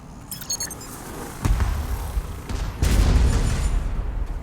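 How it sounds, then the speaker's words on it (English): In a video game, a Bombardier drone's explosive delivery sets off an explosion, a sudden deep boom followed by a second, heavier rumbling blast that lingers amid background game noise. "there's that extra explosion"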